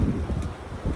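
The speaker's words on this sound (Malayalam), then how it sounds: "കാറ്റടിക്കുന്നുണ്ടോ?" Wind gusts during a Canadian snow storm, a loud low buffeting rush with uneven surges against the microphone.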